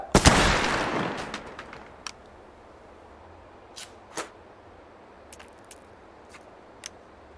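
Line infantry muskets in a VR battle game fire a volley in one loud, ragged blast with a long rolling echo, followed by scattered single shots and sharp cracks at a distance.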